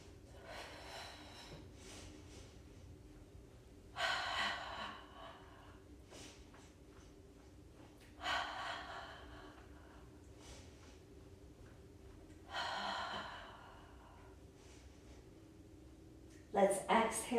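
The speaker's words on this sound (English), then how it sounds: "Really breathe through the back of the lungs on the inhale." Slow, deep breaths during a Pilates mat exercise, with four or five long airy inhales and exhales spaced evenly several seconds apart, close and soft over a low steady background hum.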